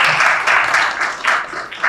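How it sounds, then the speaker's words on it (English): Audience applause at a college information session, with a dense, loud round of clapping that swells and dips in waves over its short length. "So can I ask for a big applause for him?"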